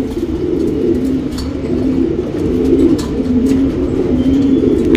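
Pigeons kept in a loft coo in low, repeated throaty calls that overlap close by, layered over a steady background hum without talk.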